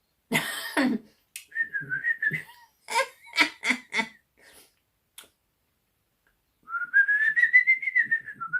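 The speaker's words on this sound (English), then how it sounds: "Can you whistle?" A short rising whistle, then several coughs or laughs, then a longer wavering whistled tone near the end, with quiet gaps between.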